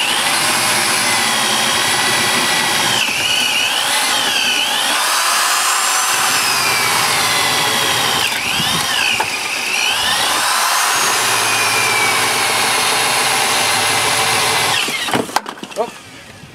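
A power drill whines steadily and loudly for about fifteen seconds drilling stainless steel, its pitch dipping and rising as it bites in, then cuts off with a few clunks.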